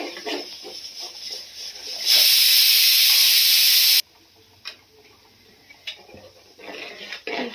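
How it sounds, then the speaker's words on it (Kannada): A pot of lentil and jaggery rasam coming to a strong boil, a loud close hiss of steam and bubbling that swells for a couple of seconds, then falls to quieter pops and faint ticks, with no talk. "ಚೆನ್ನಾಗಿ ಕುದಿ ಬರ್ತಾ ಇದೆ"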